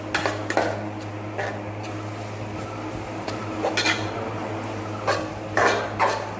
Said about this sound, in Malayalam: ഇനി ഇത് നന്നായി ഒന്ന് വഴറ്റിയെടുക്കാം.